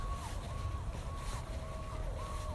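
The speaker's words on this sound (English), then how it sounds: "Don't like the sound of all those sirens." A distant emergency siren wails in a repeating rising-falling pattern over steady low rumbling traffic noise.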